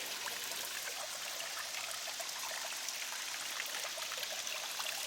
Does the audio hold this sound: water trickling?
yes